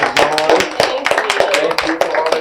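Audience clapping at a live podcast taping, a run of uneven hand claps over steady cheering and a voice talking, fairly close and loud throughout.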